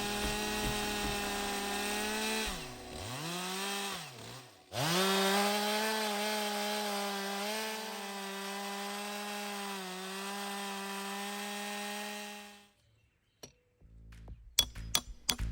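A pre-EPA chainsaw engine roars steadily, its pitch dipping twice as it bogs into big pine wood, then cuts off near the end, followed by a few clinks.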